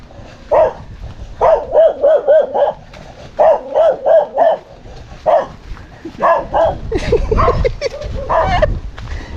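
A dog barks in quick bursts of several yelps, then whimpers and cries over shuffling and rustling noise, fairly close and loud.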